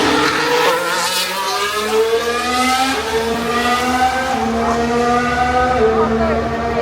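Charles Leclerc's Ferrari Formula 1 car at the Singapore Grand Prix screams past with a high, rising engine note that shifts pitch as it accelerates, loud and sustained for several seconds.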